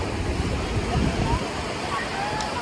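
Ocean waves at a beach on a summer day, a continuous broad wash of surf with wind rumble, strongest in the first half and then settling to a steady hiss.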